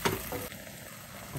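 Sambal paste frying and being stirred in a pan until the oil splits, a short steady sizzle with soft scraping of the spoon, close and fairly quiet, with no talk.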